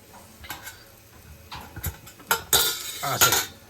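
Chicken tikka sizzles and crackles over a charcoal fire as juices drip below, with irregular sharp spitting bursts that grow louder toward the end, plus a few light metallic clinks.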